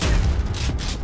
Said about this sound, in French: Satisfaisant ces explosions.